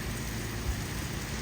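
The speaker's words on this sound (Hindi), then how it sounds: "मुसलसल एक लेवल की बारिश हो रही है, एक स्पीड से, और ज़बरदस्त किस्म की बारिश हो रही है।" Heavy, steady monsoon rain pours down outdoors at one constant level, a dense continuous hiss and patter that stays close and even throughout, with no voices.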